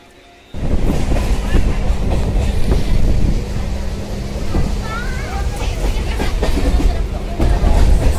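A train stands idling at a railway level crossing on a warm day, giving a steady, loud low rumble that runs throughout, with faint voices and brief squeals mixed in.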